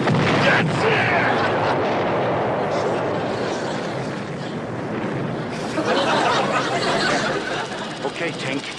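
Naval artillery salvo from a North Atlantic sea battle in a comedy film, heard as a continuous dense roar of booms and rumbling blasts across the whole stretch, swelling again toward the end.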